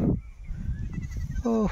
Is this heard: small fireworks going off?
no